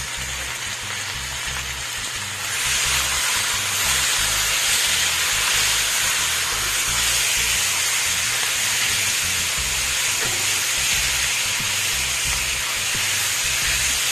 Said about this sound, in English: I'm just gonna add my meat and start the braising process